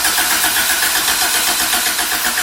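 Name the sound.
Honda Civic B16B engine starting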